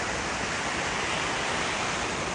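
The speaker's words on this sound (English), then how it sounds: "Beautiful river over here" Broadband rushing water of a river flowing outdoors on a bright day, a steady dense wash at constant loudness with no voices.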